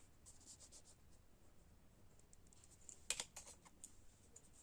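Pen writing on paper during an accounting lesson, with faint, close scratchy strokes and light taps that grow a little busier toward the end, in quiet surroundings.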